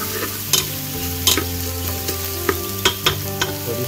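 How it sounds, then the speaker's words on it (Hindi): Garlic stir-fried lightly in a hot pan before chicken gizzards go in, a continuous loud sizzle punctuated by repeated clattering spatula strikes against the metal. "गार्लिक को थोड़ा सा भुनेंगे पहले, बहुत ज़्यादा ब्राउन नहीं करना गार्लिक को, सिर्फ हल्का सा स्टर फ्राई करना।"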